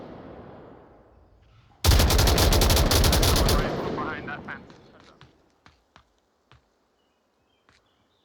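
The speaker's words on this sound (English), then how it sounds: "Milkman, Neil Breen working their way up through the center underneath all of that suppressive fire that was thrown out" Suppressive gunfire in the VR shooter Onward during a competitive match: a loud, dense, sustained automatic burst lasting about two seconds, fading into scattered single sharp shots spaced apart.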